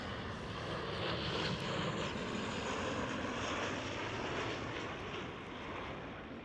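Boeing 737 jet engines of a KLM airliner on the ground at Schiphol Amsterdam, a steady broadband roar that holds loud and even throughout, easing slightly near the end, with no voices.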